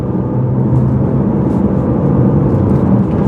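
BMW E46 M3 inline-six pulling hard in fourth gear on an open road, a loud steady engine drone mixed with road and wind roar from inside the car, unbroken and without talk.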